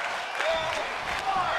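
A wrestling crowd applauding and cheering, a dense steady wash of clapping and crowd noise with a voice talking over it.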